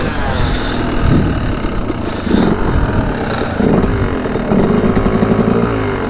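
A dirt bike engine revving under throttle outdoors, loud and close, surging in several rising bursts over a rough running drone, with a voice briefly heard alongside.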